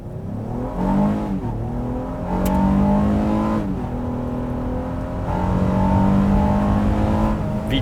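A 2022 Honda Pilot TrailSport with a 280-horsepower, 3.5-liter naturally aspirated V6 accelerates hard, its engine note climbing through rising pitch sweeps with short dips at shifts, loud and close from inside the vehicle.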